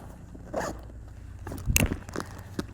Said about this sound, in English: We close the zipper